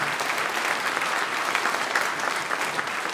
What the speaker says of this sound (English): how about a generous round of applause to thank our Hawkinson High School Music Booster Club for their support.